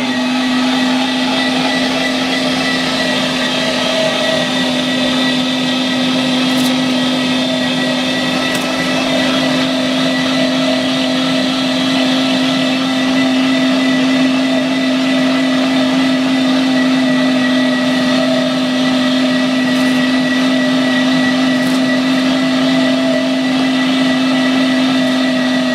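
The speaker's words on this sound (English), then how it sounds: "now he has to run it through the grinder one time to finish mixing it up even better" A meat grinder runs on a venison summer sausage mix with a loud, steady motor drone and whine, continuous and close, with no speech.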